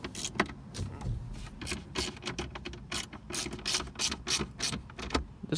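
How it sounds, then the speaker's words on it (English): Plastic T20 screws are driven in with a ratchet during a dash shelf and hazard switch install in a 2005-2009 MK5 Volkswagen, giving quick, continuous clicking strokes close to the mic. "Helps if you have just a regular driver or ratchet, whichever works."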